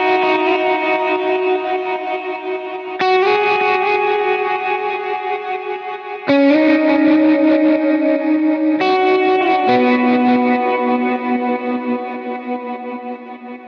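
Electric guitar chords from a song's lead part ring out in slow changes, pulsing with tremolo and trailing into thick delay and reverb, played alone.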